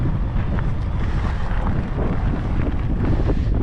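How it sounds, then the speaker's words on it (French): Steady wind buffets the microphone while riding an electric fat bike along the coast near the dunes, a loud, continuous low rumble with no voices. "il y a un petit peu de vent là"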